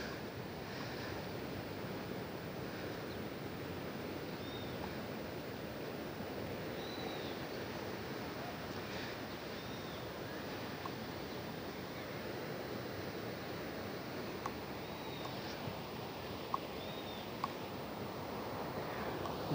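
Steady ocean surf rolls onto a beach in Torres, a constant broad wash of breaking waves with some wind rumble, heard alone at moderate volume.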